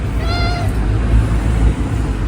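A pet cat gives a single short meow near the start, rising over a steady, noisy indoor background.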